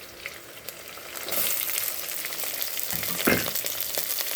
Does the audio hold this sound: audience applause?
no